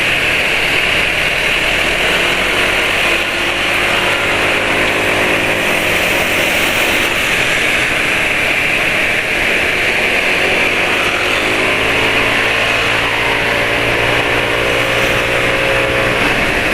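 A car engine idling steadily and smoothly at close range, a continuous even hum with a faint rhythmic pulse and no voices, running on after a CO +5 adjustment.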